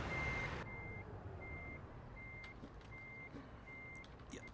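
Reversing beeps from a truck in American Truck Simulator: a steady, regularly spaced series of about six beeps over low engine rumble, following a brief burst of air at the start.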